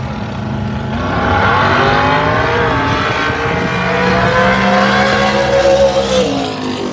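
A 1968 Chevelle drag racing down a lane, engine revving loudly with rising and falling pitch sweeps as it accelerates through gears, close and continuous for the whole stretch.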